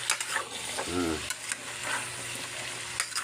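A spoon stirs a simmering dish in a pan with a short scraping swirl over a constant soft sizzle, then the frying hiss carries on alone.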